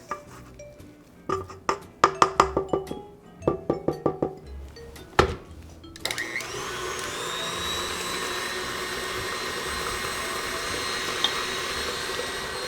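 A few sharp clinks and knocks against a bowl lead into the steady, high whirring drone of an electric mixer beating vegan butter and sugar, running on alone without talk.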